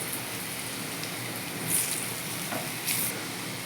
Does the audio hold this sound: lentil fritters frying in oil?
yes